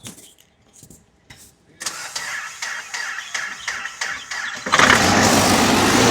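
A Mahindra Scorpio's engine cranks briefly after quiet clicks and handling noises, catches with a series of rhythmic turning pulses, then roars up loudly to a steady running idle close by.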